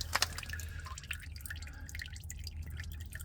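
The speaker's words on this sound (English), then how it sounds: "spin it off, let the oil start coming out there" Engine oil drips from a loosened oil filter on a 2008 Nissan Quest 3.5L, a faint, quick patter of small drops falling steadily nearby.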